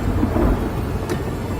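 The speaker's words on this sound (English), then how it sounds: "What's a tempest? A really big storm." Thunder rumbles low and heavy during a big storm, a deep rolling roar mixed with steady rain noise.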